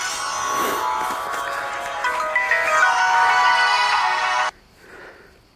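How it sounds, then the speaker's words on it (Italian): A mobile phone rings with an electronic melodic ringtone, steady and fairly loud for several seconds before cutting off abruptly, with faint outdoor background after it stops. "Oh, aspetta il telefono."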